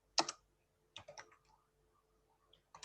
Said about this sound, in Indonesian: Pada deskripsi ini, saya akan mengetik